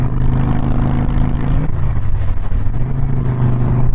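A Harley-Davidson Softail Fat Boy motorcycle being ridden, its engine a loud, steady, deep rumble heard close up throughout, with a slight shift in pitch partway through and no talk.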